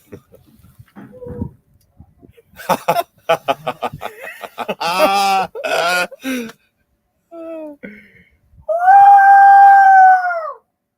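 A voice imitates a dingo howl, a few short yelps and calls followed by a long, rising, sustained howl.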